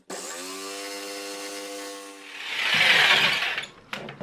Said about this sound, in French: Ensuite, on va prendre une scie sauteuse